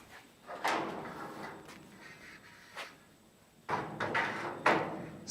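A door frame piece slides into place on a small 5-by-3-foot outdoor storage shed during assembly. The sound is a series of faint knocks and scraping slides, quiet and close, with a louder cluster of bumps near the end.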